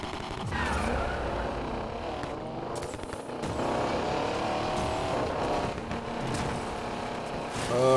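A Pontiac Firebird Phoenix in Need for Speed Payback drives hard, its engine roaring loudly and continuously with shifting revs and rumbling pops, close and sustained across the whole stretch.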